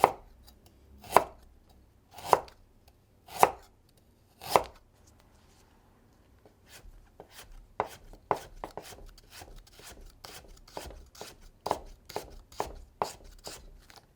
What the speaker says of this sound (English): Chop a clove of ginger